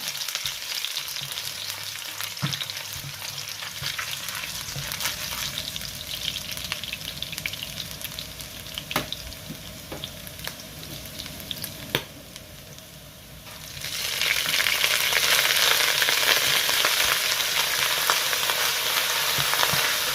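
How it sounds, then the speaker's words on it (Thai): Garlic sizzles and crackles in a hot pot with occasional stirring scrapes, the frying hiss surging louder partway through. "หม้อร้อนแล้วก็ใส่กระเทียมลงไปนะคะผัดให้หอม"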